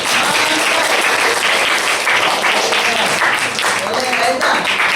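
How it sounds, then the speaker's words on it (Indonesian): Applause from students in a classroom, dense and steady clapping filling the whole stretch at close range, with some voices mixed in. "Oke, tepuk tangan dulu."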